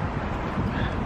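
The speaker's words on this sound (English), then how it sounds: "windy morning, as you can probably hear." Strong gusts roar across the microphone outdoors on a windy morning, a dense continuous buffeting with no breaks.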